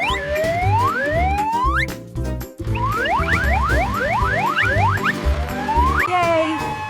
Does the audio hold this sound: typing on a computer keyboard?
no